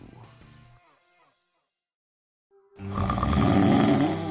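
A person snores, a deep rough rattling inhale that swells loud and close near the end after a quiet pause, with a fainter musical sound fading out at the start.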